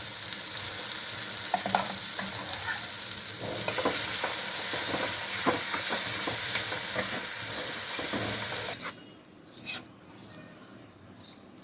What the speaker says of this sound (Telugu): ఇప్పుడు చింతకాయ పచ్చడి దాంట్లో వేసుకున్నాం. ఇది ఆయిల్లో కాసేపు ఫ్రై అవ్వాలి పచ్చడి